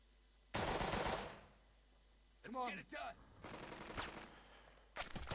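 Video game gunfire from a squad assault, with a sharp automatic burst at the start, a few scattered shots later and another burst at the end, over quiet background ambience.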